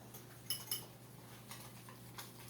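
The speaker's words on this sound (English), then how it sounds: "I'm going to whisk it in here like that till it's smooth." A whisk works browned whole grain white flour into pan juices, making faint, light metallic clinks and ticks against the pan. The taps are sparse and quiet, with a low hum underneath.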